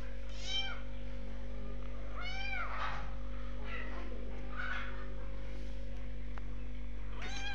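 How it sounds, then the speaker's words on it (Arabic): A small kitten meows repeatedly, five or six short high cries at irregular intervals, close by, over a steady low hum with a faint voice in the background. "ده صوت القطة الصغيرة."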